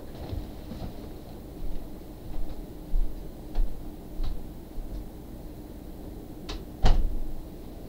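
A door being shut indoors: a single solid, close thud near the end, preceded by a few softer knocks and bumps over a quiet room background.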